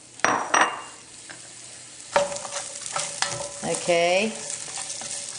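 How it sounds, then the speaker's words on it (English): Onions drop into about two tablespoons of heating olive oil with a sharp burst of sizzle, followed by metallic clanks of a spoon against the pot and a ringing pot sound. A voice says a single short word. "I added about 2 tablespoons of olive oil. This is starting to heat, so now I'm going to add my onions."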